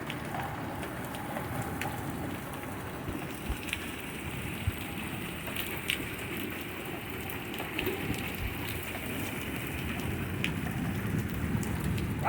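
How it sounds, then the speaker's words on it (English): Heavy rain and hail from a severe storm's hail core pour down in a dense, constant hiss, with scattered sharper impacts rising from the wash throughout. "This is the hail core."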